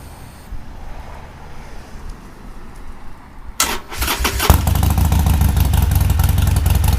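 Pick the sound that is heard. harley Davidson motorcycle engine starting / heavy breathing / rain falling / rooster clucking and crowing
harley Davidson motorcycle engine starting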